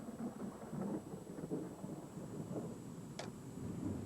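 Thunder rumbles through a thunderstorm with steady rain, a low broad roll lasting throughout and one sharp crackling crack near the end, no voices.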